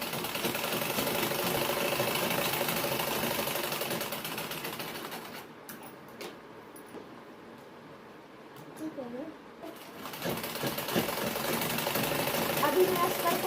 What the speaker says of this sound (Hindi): अब मैं बैक पार्ट की भी सिलाई कर रही हूँ।